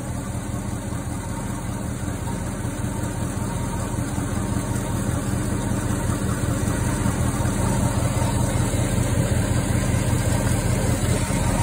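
An all-original, never-rebuilt V8 engine in a 1963 Chevrolet Impala idling steadily, a low even rumble with constant vibration and a fan whirring, close up and alone, no talk.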